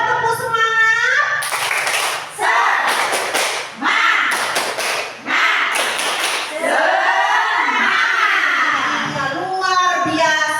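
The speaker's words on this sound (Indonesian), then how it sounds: "Coba tepuk semangat." Rhythmic patterned clapping from a group of women during a school teacher workshop, loud bursts of hand claps alternating with chanting voices, close and energetic.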